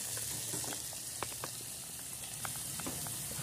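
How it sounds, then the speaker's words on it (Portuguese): Sliced calabresa sausage fries in a pan with a steady low sizzle and occasional pops and crackles, heard close up with no talking. "A calabresa tá fritando."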